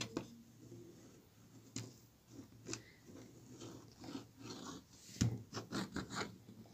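A line is drawn along a ruler for a collar pattern, giving faint, close scraping and rubbing strokes broken by a few soft taps and knocks.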